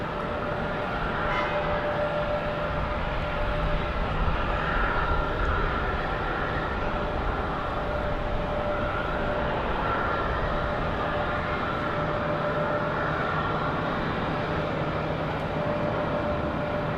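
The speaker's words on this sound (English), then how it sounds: "This one flying pretty quickly at 49 minutes from Atlanta." Airplane passing at Raleigh-Durham airport on a rainy day, a steady broad roar of jet engine noise with a faint whine, heard from a distance and holding constant for the whole stretch with no talk.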